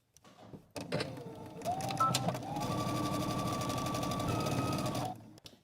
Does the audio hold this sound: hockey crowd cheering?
no